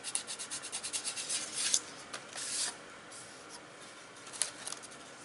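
Rhythmic hand sanding of motorcycle parts before painting, using a piece of long body-file sandpaper: quick back-and-forth scratchy rubs at first, then a few longer strokes and pauses, close and fairly quiet.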